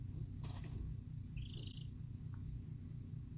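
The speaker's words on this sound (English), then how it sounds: "if you guys heard that trill in the background, that was Kagome making a little questioning" A pet chicken gives a brief, high questioning trill over a soft, constant low hum, faint and heard once near the middle.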